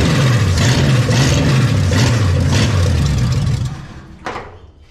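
A 1939 Pontiac coupe engine, run for the first time after sitting 46 years, chugs loudly up close with a lumpy, uneven pulse, then cuts out and falls quiet after a brief final sputter.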